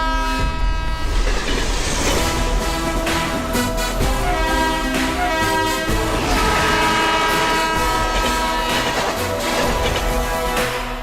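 A train rushes past in a film scene, its horn blaring over the steady rumble and clatter of the wagons, loud and continuous throughout with no speech.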